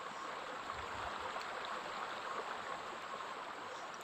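Water flowing steadily in a Roblox game, a continuous broadband rushing wash like a stream that holds an even level for the whole stretch, with no voices over it.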